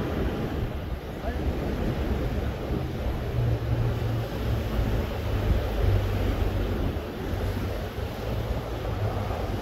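Ocean surf and steady wind at Redondo Beach in Southern California make a continuous low wash, with heavy wind buffeting on the microphone throughout.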